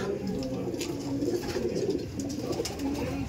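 An Arshad line pigeon coos in a low, continuous murmur with a faint hum of background noise behind it.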